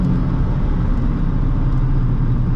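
A 2008 Honda Fit engine pulling at light throttle on a test drive, a steady low rumble with road noise that stays even and loud from the cabin throughout.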